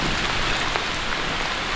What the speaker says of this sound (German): Es ist kurz nach 16 Uhr und es regnet.